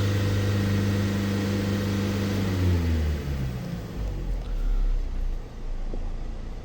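A Mercedes Vito diesel engine, carrying DPF faults with a heavily sooted filter, held steady near 3000 rpm; a loud, continuous engine drone with strong low harmonic hum that shifts and rumbles slightly, with no talk.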